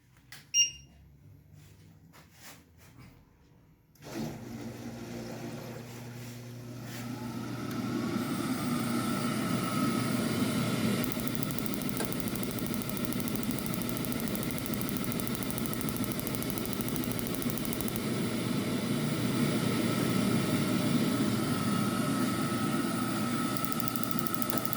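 A wall-mounted combination gas boiler tries to light: a few faint clicks and knocks, then a sudden low roar that swells into a steady burner-and-fan drone lasting the rest of the time, close by with no speech.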